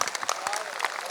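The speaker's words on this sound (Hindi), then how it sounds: "जोरदार तालियां एक बार इनके लिए।" Audience clapping at an Urdu poetry event, a short burst of steady applause from a crowd, with a voice speaking over it.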